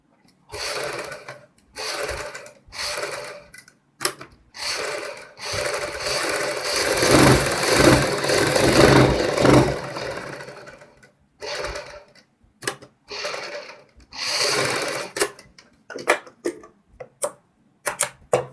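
A sewing machine runs stitches through cloth laid beneath buckram for a half ban kurti neckline, coming in short bursts separated by pauses, with one longer continuous run in the middle, close and fairly loud with no talking.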